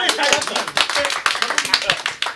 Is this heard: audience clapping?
yes